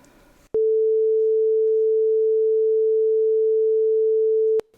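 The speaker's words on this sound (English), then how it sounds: "the sine wave is going to be at full volume for now" Steady pure sine test tone from a Cmajor audio plug-in patch, holding one pitch at full volume for about four seconds with abrupt clicks at start and stop.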